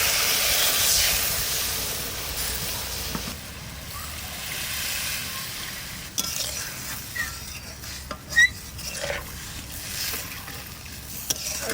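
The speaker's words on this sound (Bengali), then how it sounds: "কষাই নিয়েছি, এবার জল দিয়ে দেবো। এই মশলার জলটা দিয়ে দিচ্ছি।" Spiced water is poured into a pan of frying pakal fish curry, setting off a loud hiss of sizzling steam that settles into quieter bubbling, broken by occasional clinks and scrapes of stirring in the pan.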